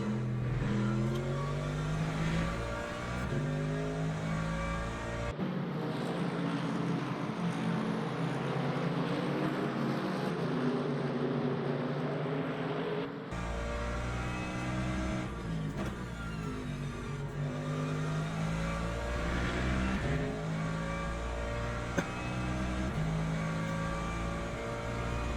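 Race car engine in Le Mans Ultimate at Monza, a loud continuous drone with shifting harmonic pitches as the car revs and changes gear, front brakes running hot on the approach to a braking zone, no talk over it.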